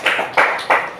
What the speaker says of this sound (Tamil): இவங்களுக்கு ஒரு பலத்த கைத்தட்டல் கொடுங்க.